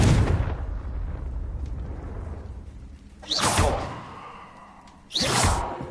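Confringo fire spell blasts in Hogwarts Legacy on PS5: two sharp, loud explosive whooshes with rumbling tails, one about midway and another near the end, following a fading rumble from an earlier blast.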